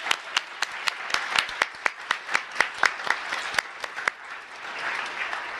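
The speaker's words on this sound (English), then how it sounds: "let's give a round of applause again." Audience applause after children perform at a school board action meeting, steady sharp claps close by for about four seconds, then thinning into softer scattered clapping.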